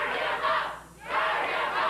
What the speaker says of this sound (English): They're cheering, burn him up.